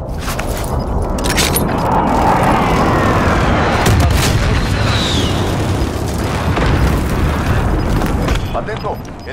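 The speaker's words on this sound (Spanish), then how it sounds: "Están disparando" Dense gunfire and booming impacts rattle through a Call of Duty: Modern Warfare match, a continuous rough barrage with scattered sharper cracks, loud and close.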